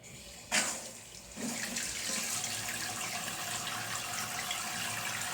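Water rushes through a toilet fill valve supply line, starting with a click and brief gush, then settling into a steady, close hissing flow that continues evenly to the end.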